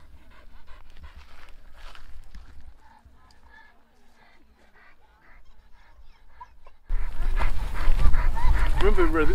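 A dog pants on an off-leash walk on Kangaroo Island, a soft rapid breathing that is faint at first and then swamped by loud, close wind-like rumble and noise, with some voices nearby.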